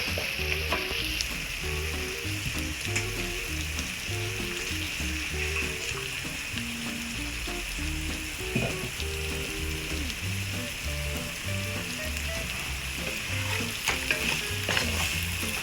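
Fried bain fish being sautéed in spice masala, a constant close sizzle with frequent clinking and scraping of a spoon stirring in the pan, steady throughout without voices.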